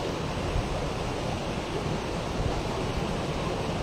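A strong water current rushes steadily during a night fishing trip, a dense, constant broadband wash that stays loud and even throughout, with no talking.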